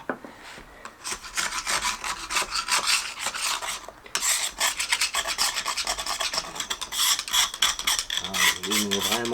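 Screwdriver scraping old paint off a car wheel rim, a dense, continuous rasping scrape close to the microphone that runs throughout with a short pause near the middle.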